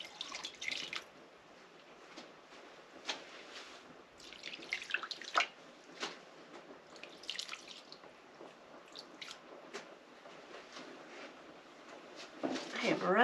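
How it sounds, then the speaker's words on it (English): Liquid dye is poured onto yarn, producing faint irregular drips, splashes and trickles close by, with a few soft handling clunks in between. "So I'm going to pour kind of more alongside."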